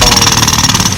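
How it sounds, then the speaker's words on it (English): A jackhammer pounds away close by, a loud, steady stream of rapid hammering blows with no voices over it. "Oh, watch the jackhammer guy"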